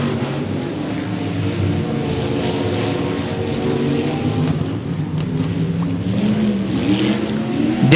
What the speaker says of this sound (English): You can hear that car banging out going down the front stretch.